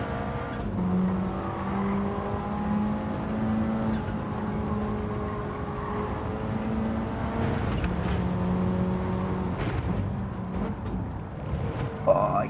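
A race car in a racing video game runs steadily with engine drone rising and falling as it brakes and accelerates through corners, a continuous mechanical tone, with a voice talking over it.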